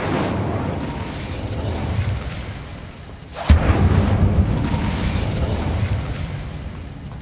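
A sharp magical blast from the Incendio and Confringo fire spells in the video game Hogwarts Legacy, one sudden loud burst bursting out of a continuous rumbling roar.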